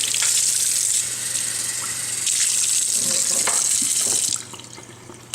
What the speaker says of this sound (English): Let's wash the cup out.